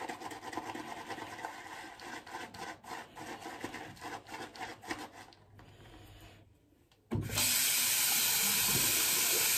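Water runs into a shaving bowl during a wet shave with patchouli soap. Softer scraping and rubbing come first, then a loud, close, steady rush of water fills the last couple of seconds.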